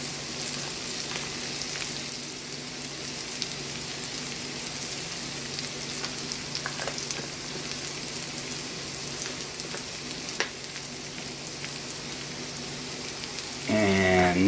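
Cajun dirty rice frying in a pan as garlic powder goes in, a steady, soft sizzle with occasional small clicks, rising briefly louder at the very end.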